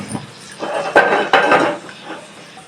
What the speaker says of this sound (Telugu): ముందుగా స్టవ్ వెలిగించి కడాయి ఉంచేసుకుందాం.